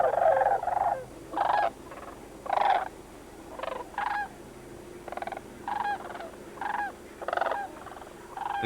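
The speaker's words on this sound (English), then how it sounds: "The cranes arrived" Sandhill cranes call in a wetland, loud rolling, rattling bugles in short bursts repeated about a dozen times, some overlapping, over a quiet outdoor background.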